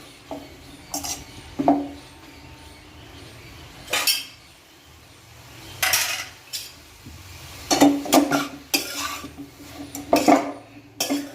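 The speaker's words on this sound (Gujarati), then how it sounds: "હવે આપણે આને સરસ સારી રીતના ઘીમાં શેકી લેવાના છે" A spoon scrapes and clinks against a pan at irregular intervals as grated carrots are stirred and roasted in ghee, over a faint low sizzle.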